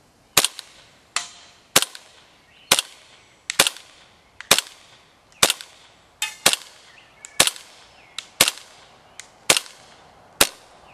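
ASG CZ P-09 Duty airsoft pistol firing on green gas outdoors, about fifteen sharp snapping shots spaced roughly a second apart with brief ringing tails, loud and close with no talk.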